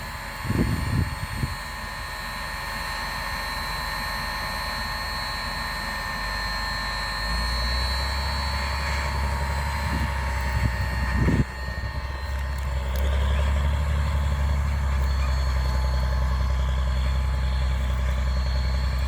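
A John Deere tractor pulling a 24-row John Deere seeder with turbine fans, a continuous heavy engine drone and steady whine heard outdoors, growing louder partway through, with a few brief thumps early on.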